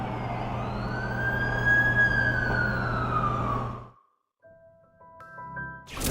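An ambulance siren in The Amazing Spider-Man 2 wails loud and steady with a rising-falling tone over a low engine drone for about four seconds, then cuts off, followed by quiet electronic chime tones.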